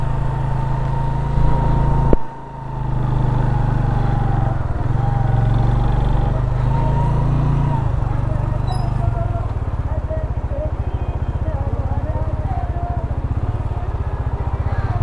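A motorcycle's engine runs steadily through a ride near Shigar Fort in Gilgit-Baltistan, a loud continuous low drone with one brief dip before it settles and changes tone toward the end.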